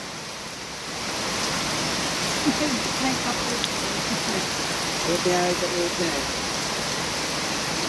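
Heavy rain pours down steadily as a dense, continuous hiss that swells in after the first second and holds loud, with a few people talking faintly beneath it.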